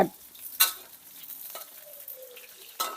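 Insects frying in a pan give off a soft, steady sizzle with a few louder stirring clatters at the start and end, heard alone with no talk.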